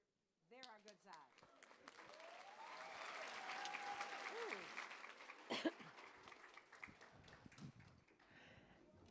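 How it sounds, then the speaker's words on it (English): An audience at a youth leadership awards program breaks into applause that swells over several seconds and then fades, with a brief voice at the start and scattered murmurs and noises within the clapping. "So it's so nice to hear your applause"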